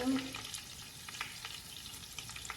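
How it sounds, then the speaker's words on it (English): Onions fry in butter and olive oil in a skillet, a quiet, close crackle and sizzle with light stirring and a faint voice at the start. "Now that the oil is hot, I'm going to incorporate the onions"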